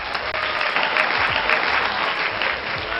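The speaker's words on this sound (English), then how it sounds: "Let's clap it up for him." A small group applauds steadily for about three seconds, dense close clapping with no break, under faint background voices.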